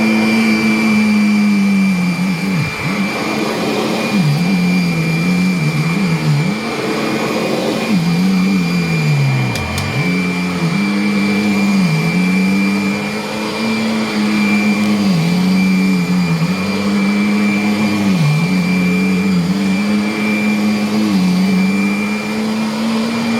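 A Kirby vacuum cleaner fitted with a bagless conversion runs loud and steady for the whole stretch, its motor whine wavering and dipping in pitch now and then as the load shifts, with no talk.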